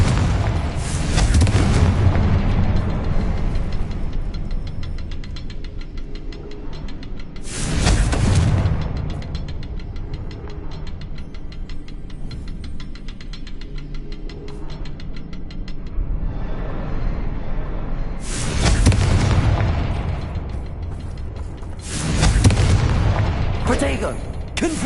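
Confringo blasting-spell explosions in the Hogwarts Legacy video game: four loud, deep booming blasts at irregular intervals over a steady rumbling game backdrop, with speech present.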